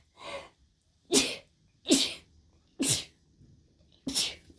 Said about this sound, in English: uh-oh, I'm gonna sneeze.